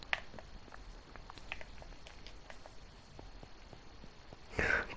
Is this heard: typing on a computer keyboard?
no